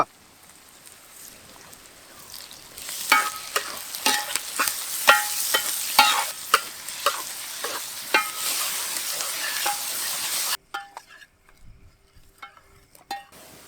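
Mustard seeds, cumin, chopped onion, green chilli and curry leaves frying in hot oil for a cluster beans curry, a crackling sizzle with regular stirring scrapes for about ten seconds, then near silence with faint clinks.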